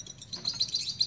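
A lovebird in breeding condition chirps in quick, high, repeated tweets that run steadily through the short stretch, close and fairly clear over a low background hum.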